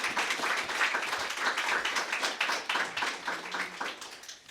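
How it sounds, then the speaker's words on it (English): An audience claps for a presenter at a spoken event, a dense run of hand claps that swells then gradually thins toward the end. "Please clap for Steph Harris."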